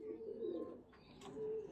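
A Teddy breed pigeon gives two soft, low cooing calls, close but quiet, with a faint rustle between them and no speech.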